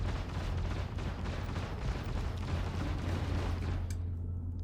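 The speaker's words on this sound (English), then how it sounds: "I'm gonna use the distortion cannon to strip the shield first." Distortion cannons on a Hornet ship fire in a continuous, dense barrage of heavy booms and rumble in a space-combat video game, aimed at a Guardian MX's shields, staying loud throughout before an abrupt cutoff near the end.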